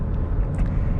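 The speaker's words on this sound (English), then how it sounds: "The tires make a little bit of noise." Steady road roar from the aggressive tires of a 2023 Nissan Pathfinder Rock Creek cruising at about 55 mph, a continuous low rumble heard from inside the cabin with no talking.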